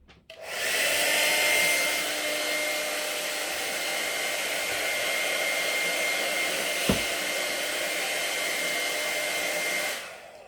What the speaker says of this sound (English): I'm going to dry this now with a hairdryer